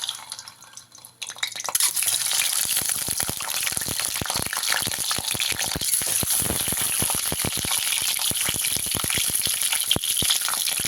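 Eggs hitting hot mustard oil in a wok, a sudden loud sizzle that starts after a quiet moment and keeps crackling and spitting steadily, close up and without talk.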